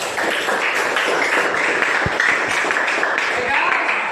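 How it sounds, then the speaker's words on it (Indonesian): A class of student teachers claps in a room, a steady wash of many hands applauding at a fairly close distance, with a few louder taps and voices underneath. "ya tepuk tangan untuk semua"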